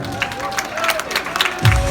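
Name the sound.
applause welcoming Ryskulov Baizak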